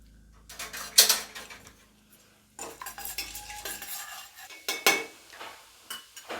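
Cumin seeds and black pepper are added to hot oil in a pan, bringing light crackling sizzle alongside clinks and scrapes of a metal spoon stirring, with a quiet gap midway before more stirring noises.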